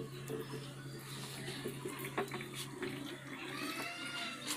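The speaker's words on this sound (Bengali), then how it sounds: "জল পড়ে যাচ্ছে তো নিচে" Water pouring and spilling down with a steady splashing flow like a running tap, fairly close and continuous, with a low mains-like hum beneath and a few faint knocks.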